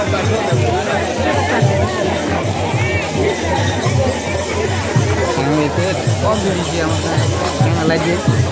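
A dense crowd at the Bahada Yatra festival fills the air with steady babble, many voices overlapping close and far without pause, with nearby people talking throughout.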